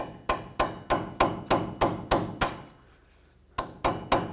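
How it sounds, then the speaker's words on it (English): A hammer strikes a chisel to free a seized front wheel hub bearing on a 2004-2008 Ford F-150, about a dozen sharp, evenly spaced metallic taps with one short pause, close and distinct. "looks like I'll have to hammer it"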